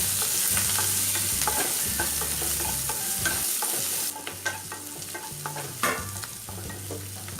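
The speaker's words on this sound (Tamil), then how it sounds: "இது 2ஐயும் சேர்த்து நல்லா வதக்கிக்கலாம்." Small onions and curry leaves sautéing in a pan for banana flower kootu kulambu, a close, steady sizzle with frequent spatula scrapes and taps, the frying hiss dropping slightly partway through.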